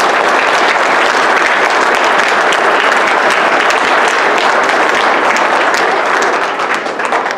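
Sustained, loud applause from an audience after a 6th and 7th grade student orchestra's winter concert performance, dense and steady throughout before easing slightly at the end.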